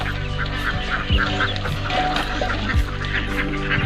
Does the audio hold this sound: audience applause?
no